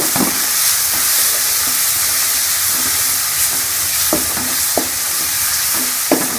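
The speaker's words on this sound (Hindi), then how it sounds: "मसाले को अच्छी तरह से भून लेंगे" Spices frying and stirred in a pan while cooking achari arvi (taro root): steady sizzle with intermittent scraping stir strokes near the microphone, no voices.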